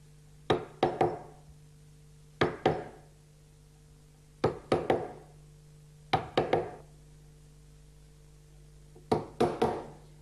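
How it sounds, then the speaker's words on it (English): A chisel chops out wood waste between dovetails, struck in five groups of two or three sharp knocks at a steady pace, each blow crisp and close against a quiet background hum. "The next step is to chisel it out."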